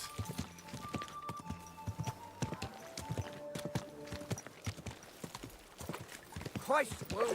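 Horse hooves clip-clopping in the video game Kingdom Come: Deliverance 2, an uneven series of close hoof strikes with a short whinny near the end, while someone talks over it.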